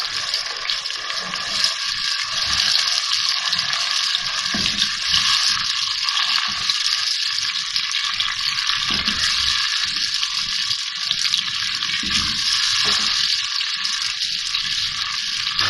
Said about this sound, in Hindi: इसको थोड़ा सा भूनेंगे ऑयल के साथ।